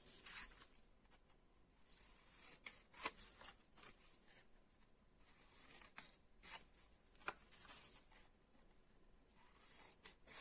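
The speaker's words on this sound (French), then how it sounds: "Et ensuite, j'utilise ma paire de ciseaux." Quiet, close snipping and rustling of scissors working through paper, with irregular crisp cuts scattered across a soft background.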